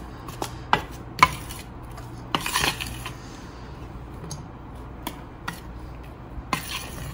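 A spoon stirs spices and salt into gram flour for gatte dough in a bowl, giving scattered sharp clinks and taps against the bowl with quiet gaps between them, close and without talk.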